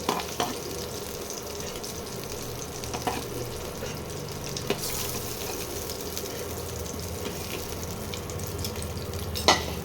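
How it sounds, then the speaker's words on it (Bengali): Boiled potatoes frying in oil in a pan, a steady low sizzle with occasional stirring clicks and knocks throughout, heard close with no talk. "আলুটা ভাজা ভাজা হয়ে গেছে"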